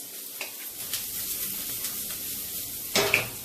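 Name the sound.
broccoli sizzling while frying in a pan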